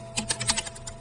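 Synthetic typing generated by the Riffusion AI music tool: a quick, uneven run of soft key-like clicks, fairly close and moderately loud, fading into a few sparser taps.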